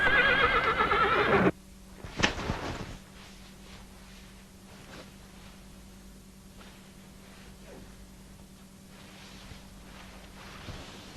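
A horse gives a loud, drawn-out whinny at the start, then a few hoof clops and thumps follow before the scene settles into quiet background noise.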